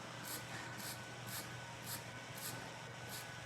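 A handheld spray bottle squirting onto three layers of face mask over tissue, six quick, faint hissing bursts in a steady rhythm over quiet background hum.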